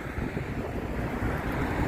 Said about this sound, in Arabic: البحر